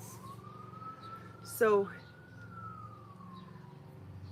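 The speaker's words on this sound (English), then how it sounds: "Sirens." Emergency vehicle sirens wail in the distance, heard from a backyard garden with a pond, with a long, faint rising and falling tone under a brief remark and a short nearby noise.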